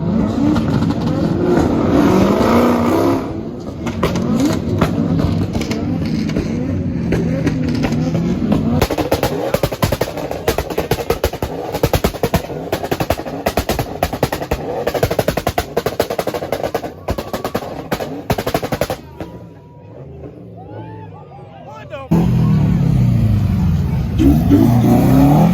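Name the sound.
Corvette engine revving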